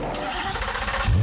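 Chevrolet Corvette C8 Z06 with its 5.5-liter LT6 double overhead cam V8 cranks over and catches, a steady loud mechanical roar that swells into a deep low surge at the end as the engine fires.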